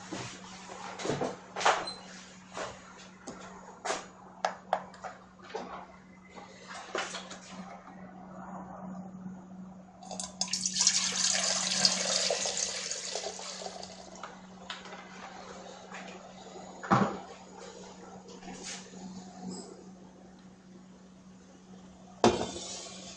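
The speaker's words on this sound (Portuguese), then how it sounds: "agora eu vou colocar uma quantidade de água ali dentro" Water is poured into an electric pot in bursts among clanks and knocks of handling, with a long rushing stretch in the middle and sharp bangs near the end, no talk.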